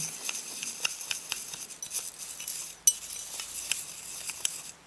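Apple blossom scent drops being stirred into a bath mixture in a bowl, heard as a steady series of light clinks and scrapes of a utensil against the container, close and fairly quiet.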